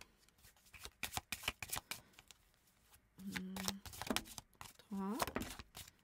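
Tarot cards are handled and laid out during a card reading, with a run of crisp flicks and snaps of card stock. Soft hums and brief tones sound between them, and no clear speech is present.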